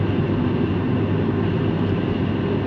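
Volvo 850 GLT inline-five at 2,500 RPM in fifth gear, heard from the cabin as a steady droning engine hum blended with road and wind noise, constant and moderately loud throughout.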